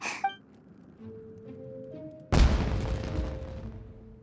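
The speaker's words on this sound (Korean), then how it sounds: "저쪽에서 뭔가 터졌어. 설마 폭죽?" Fireworks go off in the video game Genshin Impact: a soft musical score plays until a sudden loud burst of explosion, then a crackling, rumbling tail that fades out under the ongoing music.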